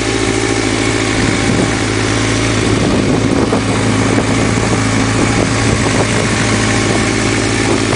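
A motorcycle engine runs steadily up close. It gives a loud, continuous mechanical rumble with a busy, uneven idle texture and no one speaking.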